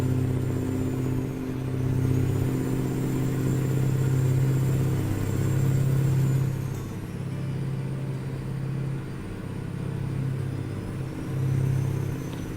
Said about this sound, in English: But the engine sounds really nice. It does. Even on this high RPM, it sounds really nice.